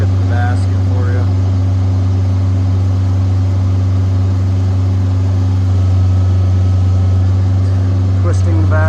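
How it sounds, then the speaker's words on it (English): A Deutz diesel engine on a 1999 JLG 600S boom lift runs steadily, a loud, close, constant low drone that continues throughout, while someone talks over it. "Deutz diesel, real good sounding motor"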